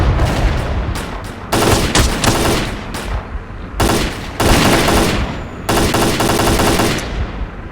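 Loud machine gun fire from the video game S.T.A.L.K.E.R.: Clear Sky comes in several long sustained bursts separated by short pauses, close and dominant with no talk.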